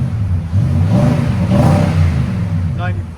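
A Nissan Titan 5.6L V8 with an aftermarket exhaust revs up loud and close, a deep droning rumble swelling and holding before settling, with a faint voice underneath.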